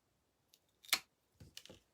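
Scissors trim craft pieces for Santa-style decorative balls with a hat and shoes, cutting about a quarter inch off. A few short, crisp snips sound close by, separated by brief pauses, with no talking.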